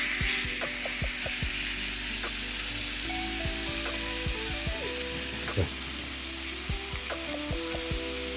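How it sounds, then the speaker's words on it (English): Chicken sizzles steadily in a hot pan, a constant broadband frying hiss with scattered pops and crackles throughout, close and fairly loud, with no one talking. "It should be sizzling"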